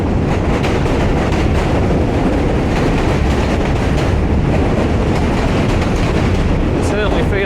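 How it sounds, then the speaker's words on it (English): A Coney Island subway train rumbles across the Manhattan Bridge, a loud continuous roar with rattling and clatter, heard up close from the walkway with heavy wind buffeting the microphone. "Another subway train."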